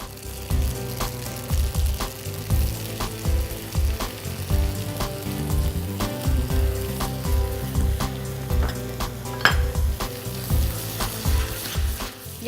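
Bechamel sauce heats in a pan with a steady sizzle and bubbling, mixed with rhythmic low thumps and tonal background music throughout.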